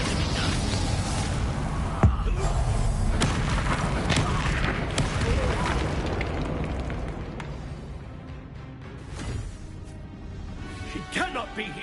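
Bombarda spell blast in Hogwarts Legacy, a heavy booming explosion with thuds and crackling debris amid dense battle noise that fades into quieter game ambience, with voices heard.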